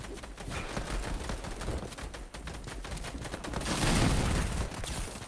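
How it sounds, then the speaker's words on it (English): Gunfire in a Fortnite match: rapid bursts of shots crackle continuously at moderate loudness, growing denser and louder near the end, with no talk over them. "Shots fired here."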